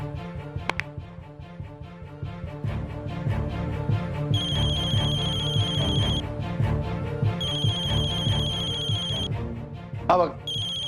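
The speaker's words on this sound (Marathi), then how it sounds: "आला आपल्या माणसाचा फोन आला" A phone ringtone chimes in a Marathi TV drama scene, a repeating electronic melody that plays in two bursts over background music, with people talking beneath it.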